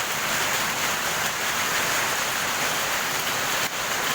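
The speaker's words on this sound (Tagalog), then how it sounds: "Napakalakas ang ulan." Steady, dense downpour of heavy typhoon rain with trees swaying, a loud unbroken hiss filling the whole stretch and no voices heard.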